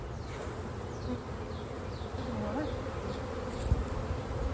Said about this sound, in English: there are a whole lot of bees still in this box